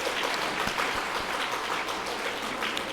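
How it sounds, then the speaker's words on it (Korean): A church congregation claps in welcome, a dense steady patter of many hands filling the room for the whole moment, with no voices over it. "인사할 때 큰 박수로 환영해 주시기 바랍니다."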